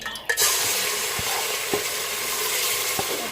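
Chicken frying in about half a cup of oil with yogurt and ginger-garlic paste, a steady close sizzle with a few soft stirring scrapes and light clinks of a spoon against the pot, no talking.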